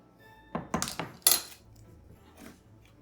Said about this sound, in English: we're going to take the spatula and make sure we get all our